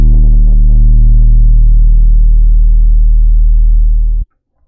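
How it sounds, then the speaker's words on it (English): An 808 bass made in Serum and processed with Camel Crusher plays one long, loud, deep note with a gritty, saturated tone that holds steady for about four seconds and then cuts off abruptly. "Now with Post FX, our 808 sounds like this."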